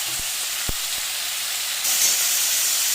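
Chopped onion, banana stem and potato go into a hot pan, giving a steady, close sizzling hiss that grows louder partway through.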